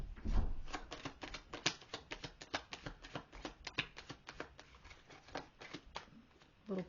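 Tarot cards are riffled and shuffled in quick, rapid bursts of papery flutter, close and fairly quiet, continuing steadily for several seconds.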